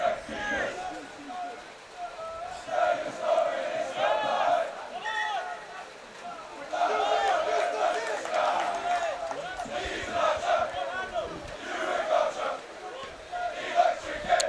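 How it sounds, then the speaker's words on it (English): A rugby crowd of Cardiff Met Ultras cheers and chants in a steady roar at a rainy university match, with commentators talking over the noise throughout. "I do love the sound of that crowd, man."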